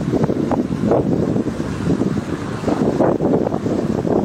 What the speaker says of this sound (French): le vent s'est calmé, mais je ne suis pas à l'abri d'une rafale